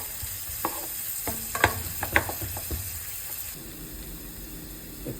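Onion browning in hot oil in a pan, a close continuous sizzle with quick bursts of stirring and spoon scrapes during the first part, then settling into a quieter, even hiss.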